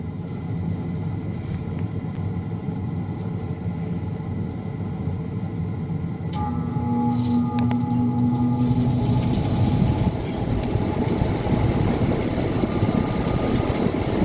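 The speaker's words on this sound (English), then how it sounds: "the next thing that should happen is this blower should start up" A furnace blower spins up beside a side draft cooler, a low rumbling hum that swells and thickens midway with a brief tonal whine, then settles into a steady drone, no talk.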